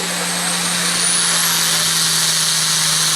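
Hyper Harvester pulling tractor roaring flat-out down the track at the 2016 Chisago County Fair tractor pull in Rush City, Minnesota, a loud continuous high-pitched howl with a steady low drone beneath, no talk.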